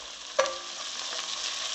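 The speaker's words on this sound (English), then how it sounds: "So I'll fry it for some time." Bottle gourd curry with ghee and garam masala sizzles and fries steadily in a pan, a soft continuous hiss with a brief clink near the start, no voices.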